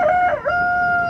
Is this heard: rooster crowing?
yes